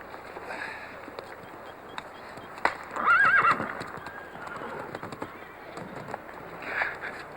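A horse whinnies loudly near the middle, with hooves clip-clopping along a run under a steady noisy background, in an outdoor riding setting.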